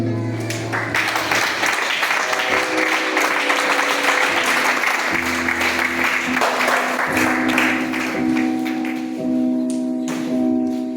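A church congregation applauds and cheers in praise at a Sunday service, a steady, loud wash of clapping lasting several seconds with voices and musical tones underneath.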